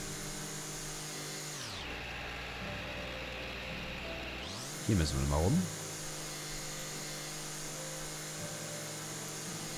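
Lawn mower in the video game House Flipper drones steadily while cutting grass, with a brief dip partway through and a short louder burst of clatter, as someone speaks German over the top.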